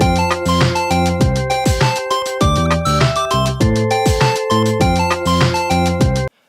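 A full synth backing track from an OP-1 synthesizer, with punchy bass notes, steady beat and bright chordal tones, playing continuously and loud before stopping abruptly.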